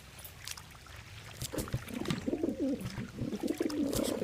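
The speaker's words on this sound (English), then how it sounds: "These pigeons are supposed to do something." Pigeons coo in the cat video game I Am Cat, a run of soft, throaty, rolling coos repeating over steady background noise and faint ticking sounds.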